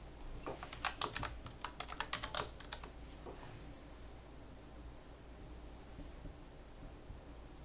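A quick flurry of keystrokes on a computer keyboard rattles close by for a few seconds, then stops, leaving only a faint, steady hiss of room noise.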